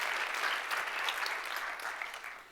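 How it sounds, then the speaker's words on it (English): Audience applause at a startup pitch event for the Nordic innovation community, a continuous even patter of many hands clapping, moderately distant and without voices. "Give yourself a round of applause"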